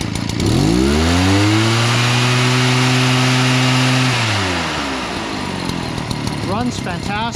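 An Echo PB-603 58cc gas backpack leaf blower engine runs loud and steady, revving up quickly, holding high throttle, then dropping toward idle; a voice speaks briefly near the end.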